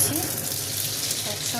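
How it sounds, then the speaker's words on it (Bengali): Whole spices hit hot oil — radhuni, cumin, dried chilli and bay leaf — giving a loud, dense sizzle close up that fills the brief moment without pause. "এবার প্রথমে আমি গোটা ফোড়নটা দিয়ে দিচ্ছি"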